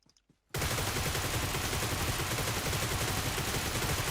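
Sustained automatic gunfire from PUBG Mobile bursts in after a brief quiet start and rattles on loud and continuous to the end, a dense stream of rapid shots with no talk over it.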